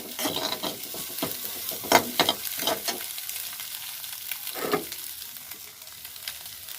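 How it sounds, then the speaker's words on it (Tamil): Onions and green chillies fry in a pan for egg fried rice while a spoon stirs them, with bursts of scraping and clattering over a continuous sizzle, loudest early on and easing toward the end. "நல்லா கிண்டி விடுங்க."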